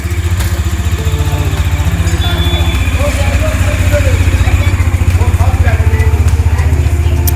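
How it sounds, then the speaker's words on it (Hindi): A loaded motorcycle idles steadily after warm-up on a Himalayan mountain route in Himachal, a continuous close, loud low engine rumble running throughout. "अपनी बाइक भी वार्म अप कर चुकी है और सभी रेडी है अभी यहाँ से निकलने के लिए"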